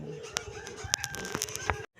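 Chickens cluck in a yard with a rooster crowing among them, several sharp close calls scattered over a couple of seconds before a sudden cutoff.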